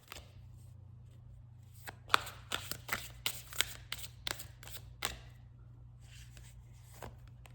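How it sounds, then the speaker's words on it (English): A tarot card deck is shuffled by hand, a quiet run of crisp riffling flicks and card snaps in irregular bursts over a low steady hum, with no talking. "let me go ahead and give this a shuffle"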